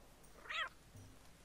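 A cat in a video game gives one short, faint meow over quiet background ambience.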